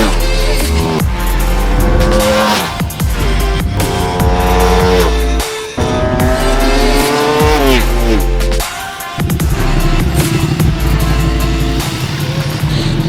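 Exotic sports car lapping a race track at an auto festival, engine loud and close with repeated rising revs and sharp gear-change drops, roaring steadily throughout.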